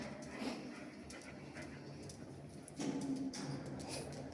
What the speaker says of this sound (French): C'est une chienne, elle aurait pu garder du bétail.